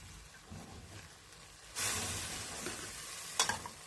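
Three vegetables stir-fried together in a pan, with a loud burst of sizzling as food hits the hot surface partway through and brief scraping stirs, all close and without talk.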